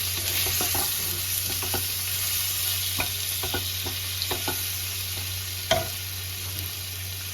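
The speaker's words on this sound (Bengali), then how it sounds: "এবার মশলাটাকে ভালো করে মিক্স করে নেবো" A spice paste for fish curry fries in a pan while being stirred, giving a continuous hiss with scattered light scrapes and taps of a spoon, and one louder knock near the end.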